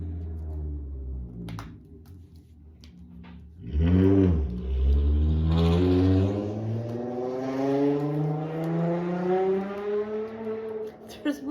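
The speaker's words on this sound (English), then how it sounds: "Somebody likes some muscle cars in this neighborhood." Muscle cars revving in a residential neighborhood: a deep engine roar swells and climbs in pitch, then holds a strong sustained drone close by.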